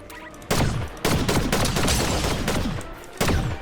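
Gunfire in an online shooting video game comes in loud, repeated bursts of rapid automatic fire separated by short pauses.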